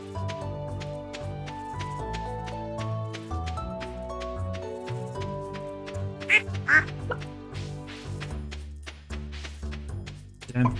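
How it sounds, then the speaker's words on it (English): Several ducks quack in Stardew Valley, sharp calls bursting over steady background music from the farm game, clustered in the middle and again near the end. "Damn ducks all over my vegetable patch."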